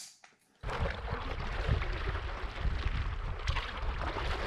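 Wind pushing a homemade sail rigged on a stand-up paddle board on the water, a steady close rushing and buffeting noise after a brief quiet start, heard alone.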